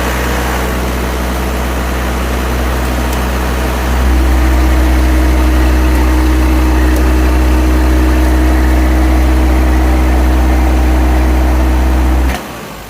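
A car engine with its air filter removed idles steadily, loud and close, its low hum stepping up in strength partway through before abruptly cutting out as it stalls near the end.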